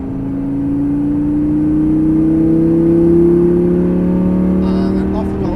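A Lamborghini LP560 Superleggera on full throttle, its engine tone climbing steadily as a strong, close, sustained drone that rises in pitch across the whole stretch, with no voices over it.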